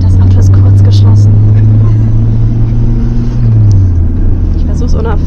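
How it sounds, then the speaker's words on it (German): Inside a moving taxi on a road trip near Lake Issyk-Kul, a steady, loud low engine and road rumble fills the cabin throughout with faint background noise. "Und wir sind im Taxi auf dem Heimweg."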